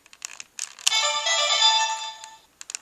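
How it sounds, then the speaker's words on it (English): A Mobirates toy communicator's bright electronic ringtone trills steadily for about two seconds, bracketed by short clicks and beeps before and after. "the normal ringtone that you'd hear from the Mobirates in the show when they're using it as a communicator"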